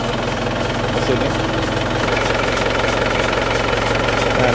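Idling 2.5-litre turbo diesel engine of a Panther pick-up, running with a steady low rumble and a close, even knocking clatter throughout, heard near with the bonnet open.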